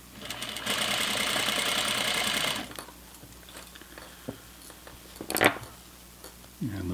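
A sewing machine stitches an elastic waistband onto flannel pajama pants in one fast, steady whirring run of about two seconds, followed by quiet handling clicks and fabric rustles.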